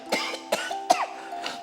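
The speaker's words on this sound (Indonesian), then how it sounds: "kok batuknya parah gitu?" A person coughs four times in a row, harsh and close, with short pauses between each bout.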